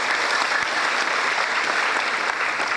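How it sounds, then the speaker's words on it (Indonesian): An audience applauds at a school event, with dense, steady clapping that fills the whole short stretch and stays loud throughout. "tepuk tangan yang mulia"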